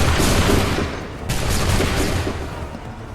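A musket volley from a line of soldiers in Assassin's Creed 3 fires as a loud, dense burst of gunfire. A second blast follows about a second later and the sound tails off into rumbling echoes.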